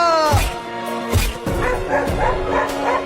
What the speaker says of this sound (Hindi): देखो एक और कुत्ता भी जा रहा है तुम्हें काटने के लिए